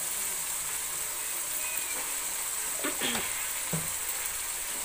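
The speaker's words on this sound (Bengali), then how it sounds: "দিয়ে এটাকে ভালোভাবে নেড়ে নিচ্ছে" Fried spices with turmeric and salt for chicken stirred in a hot pan: a steady, close sizzle runs throughout, with a few scraping strokes of the spoon breaking through.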